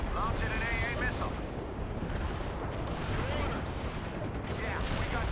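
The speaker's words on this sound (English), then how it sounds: "Launching an AA missile." An anti-air missile launches during a battle in World in Conflict, a loud, sustained rushing roar over continuous rumbling combat noise, with brief radio-style voice fragments over it.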